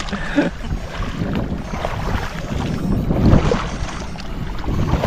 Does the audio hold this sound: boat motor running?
yes